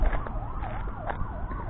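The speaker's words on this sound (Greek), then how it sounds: "Κάπου ακούγεται και ένα περιπολικό ή ασθενοφόρο" A police car or ambulance siren wails in a slow, rising-and-falling pattern, distant and steady beneath traffic and wind noise on a steep downhill street in Thessaloniki.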